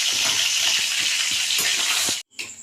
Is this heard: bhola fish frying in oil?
yes